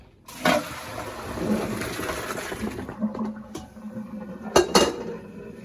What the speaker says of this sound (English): And I'm going to dump the pasta.